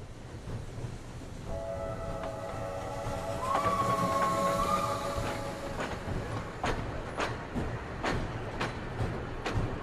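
A train of political deportees rolls on rails in occupied France in 1941, a steady low rumble with faint rhythmic clacking and a distant tonal horn or whistle rising briefly in the middle.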